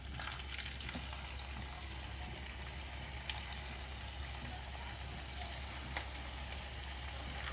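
Iraqi kebab frying in hot oil, a steady soft sizzle with faint crackles and occasional pops.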